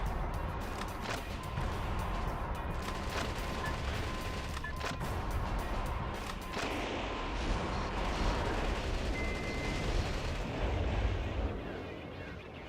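Steady, heavy gunfire in the video game Resident Evil Code Veronica, with a run of sharp distinct shots early on giving way to a continuous rumbling barrage, fairly quiet overall.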